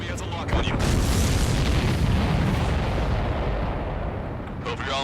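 Explosions and rumbling blasts in the aerial combat video game Ace Combat 7, a dense, loud, continuous booming wash filling the whole stretch, with brief voice fragments near the start and end.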